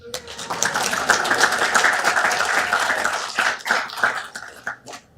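An audience at a city council meeting claps in a ragged round of applause that starts full and thins out toward the end, with scattered individual claps and some murmuring.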